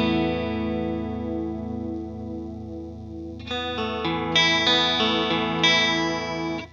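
A Boss chorus ensemble pedal with speed and depth turned up, in stereo mode, processing a sustained guitar chord, with a steady wobbling shimmer and new brighter notes entering halfway through; clean, processed hi-fi tone, no talking.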